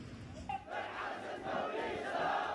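Huge crowds shouting and chanting together in the streets of Yemen at a rally after Houthi missile launches at Israel, a dense, continuous roar of many voices that swells and stays loud throughout.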